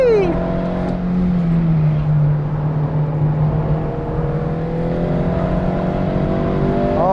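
An 8th-generation Honda Civic Si on a race track, its engine holding a loud steady high drone that sags slightly then climbs again as it revs, heard from inside the car with a voice talking over it.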